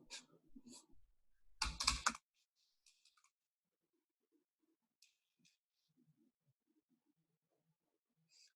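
A short flurry of keystrokes on a computer keyboard while entering a git command in a coding session, a quick loud burst of clicks followed by a few sparse, faint taps in a quiet room.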